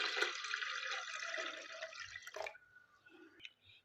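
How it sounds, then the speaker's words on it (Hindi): About half a litre of water is poured into a jar for a mint and tamarind drink, a close, steady gush that stops abruptly, followed by a few scattered drips. "अब इसमें हम डाल देंगे तकरीबन आधा लीटर पानी।"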